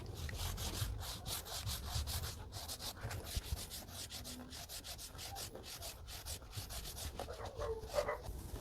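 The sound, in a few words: applicator spreading product on rubber floor mat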